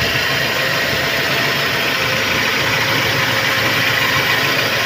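A Toyota Kijang engine idles steadily and smoothly up close after carburetor servicing, a constant even rumble with no change in pitch and no voices.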